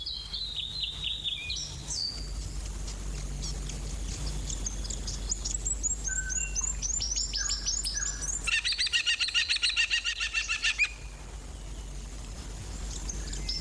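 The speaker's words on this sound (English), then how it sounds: "the New Zealand falcon." New Zealand falcon in dry beech forest giving a run of sharp, repeated high chattering calls, building to a dense rapid burst near the end, fairly close over a steady low hum.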